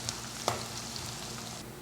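Garlic frying in oil in a pan for cooking greens, a steady close sizzle with a couple of faint clicks of a spoon against the pan.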